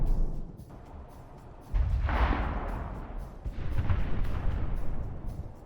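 Tank cannon fire and crumbling buildings in combat footage, with two heavy booms followed by rumbling debris, heard at a distance and moderately loud.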